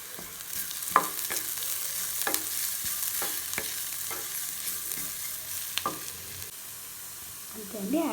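Masala is stirred into onions frying in a pan, bringing a soft sizzle under repeated sharp scraping and tapping strokes of a spoon.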